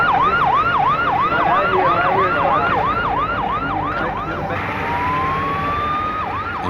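A loud, close ambulance siren wails in rapid repeating rising-and-falling cycles, then switches to a slower drawn-out tone, steady and prominent with no talking.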